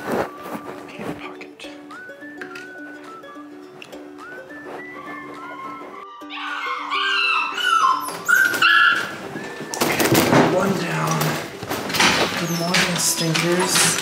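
A puppy whimpers in high, thin cries, then yips and barks more loudly, with people talking over the later barking.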